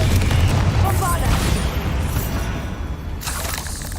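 Spell explosions from Confringo and Bombarda in Hogwarts Legacy: a loud, heavy booming blast with rumbling debris that rolls on for several seconds, followed by a second softer burst near the end.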